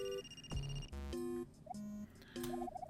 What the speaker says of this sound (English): That phone has now rung for the 11th time.